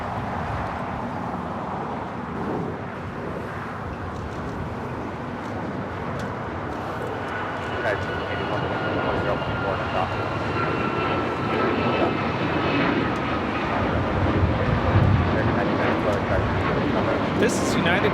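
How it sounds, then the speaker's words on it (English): A Boeing 787-9 Dreamliner takes off at Los Angeles airport, a loud sustained engine roar with a rising whine that swells over the course of the takeoff, heard from a distance. People talk over it. "This flight heading to Paris, flight 8, the 787-9 Dreamliner"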